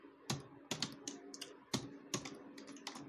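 Typing on a computer keyboard while coding, a quick irregular run of crisp key clicks, close and fairly quiet, with no talk.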